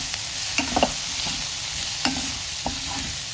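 Onions sautéing in oil with turmeric and asafoetida for tomato chutney, a steady close sizzle with a few spoon scrapes and stirs against the pan, no talking.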